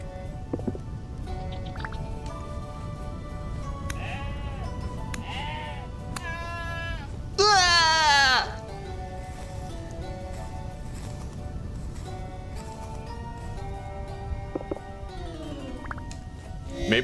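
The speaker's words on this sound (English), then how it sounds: "Yeah, we got some undesirable goats here." Goats bleat in the survival game Vintage Story, several wavering cries spread over the scene, with one loud, close bleat in the middle against a quiet ambient background.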